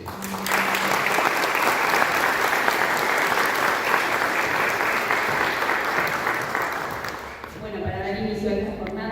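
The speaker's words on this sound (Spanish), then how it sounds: "un aplauso para todos ustedes" An audience at a geography conference in Buenos Aires Province breaks into loud, sustained applause lasting several seconds, then it drops away as a voice begins speaking near the end.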